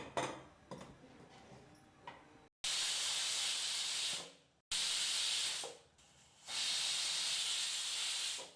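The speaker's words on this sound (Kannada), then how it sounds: "ಈಗಿಲ್ಲಿ ಕುಕ್ಕರ್ 3 ವಿಸಲ್ ಬಂದಾಯಿತು" A pressure cooker cooking millet khichdi releases loud, close blasts of hissing steam in three long bursts, each sustained for a second or two before cutting off, after quieter kitchen sounds.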